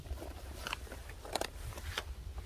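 A rat gnaws at a trap in a series of small, irregular crunching and scraping bites, close but fairly quiet.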